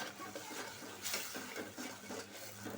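Spice paste for a katla fish head curry being sautéed in a pan, a soft continuous sizzle under repeated scraping and stirring strokes of a spoon against the pan, fairly quiet.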